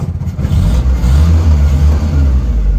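A 1961 Land Rover Series 2 engine catches after a brief cranking start, then runs in a loud, rough, steady low rumble close by, with no voices.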